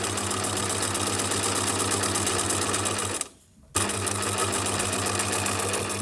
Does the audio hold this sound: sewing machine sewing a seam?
yes